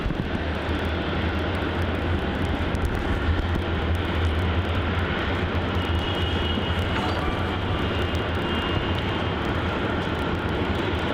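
A steady, loud jet engine roar rolls across Melbourne Airport near runway 34, where a Virgin Australia Boeing 737-800 waits, a continuous broad rumble with no voices over it.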